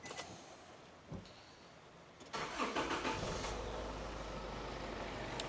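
A Nissan ZD diesel engine cranks briefly and fires, then settles into a steady, rumbling idle, close and continuous with no voices.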